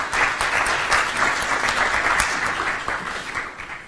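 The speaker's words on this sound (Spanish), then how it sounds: "Los recibimos con fuertes aplausos." An audience at a formal welcome session with officials gives steady, full applause that lasts throughout and fades slightly at the end.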